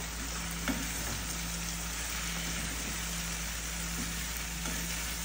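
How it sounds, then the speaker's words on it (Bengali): Fresh okra tipped into potatoes frying in a pan, giving a steady, even sizzle close by with a few faint stirring knocks and no talking. "এখন আমি ভেন্ডিগুলি দিয়ে দিব খুব সুন্দর ফ্রেশ ভেন্ডি আমাদের এখানে পাওয়া যায়"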